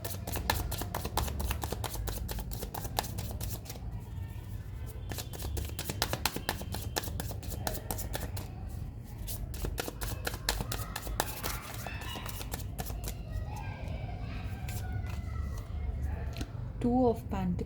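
Tarot cards shuffle in a steady run of rapid riffling flicks, close and soft, continuing for a long stretch with faint room noise and no speech.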